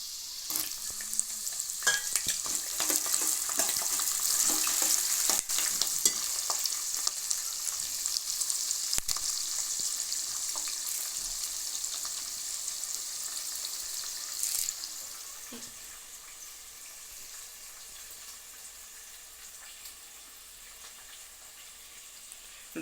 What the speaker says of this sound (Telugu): పచ్చిమిరకాయ ముక్కలు వేసుకుందాము.